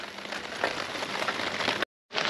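Steady rain pattering on a small camping tent with an undersized two-metre flysheet that leaks, heard close as a dense continuous patter with no talk, broken by a brief silent gap near the end.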